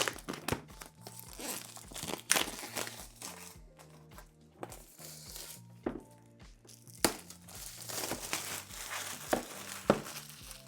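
Packaging for a Supernote A5X2 Manta tablet crinkles and rustles during unboxing, close-up crumpling, tearing and soft thunks in irregular bursts over a faint steady background tone.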